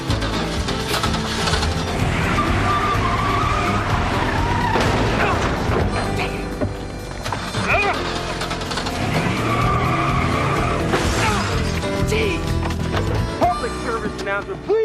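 A car drives and skids, tires squealing in repeated bursts over a loud engine roar, with voices and other noise mixed in.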